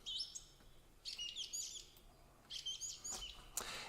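Small birds chirping outdoors, several bursts of quick high tweets and trills coming and going, fairly close and clear over a quiet background.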